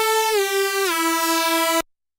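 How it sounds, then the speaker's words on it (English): Mono unison synthesizer patch built from two sawtooth waveforms with no chorus, a bright buzzy held tone with a clean harmonic stack that steps down in pitch twice, then cuts off abruptly, played alone. "So without the chorus, it sounds way different."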